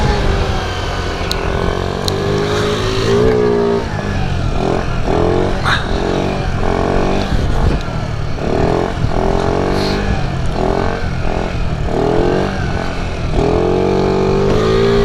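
A stock 50cc scooter engine revs hard and wavers during a wheelie, a loud, continuous buzzing drone that rises and falls in repeated surges up close.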